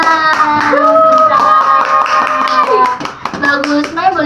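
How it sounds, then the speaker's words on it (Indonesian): Classroom applause for a student who has just presented in a mathematics lesson: a steady, brief patter of hands clapping throughout, mixed with children's voices and some tonal chatter close by. "Oke, tepuk tangan untuk Mai Sheila."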